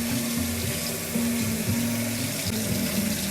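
Salmon fillet rinsed under a running kitchen tap, a steady close splashing water stream with a faint tonal hum, continuous and alone without talk.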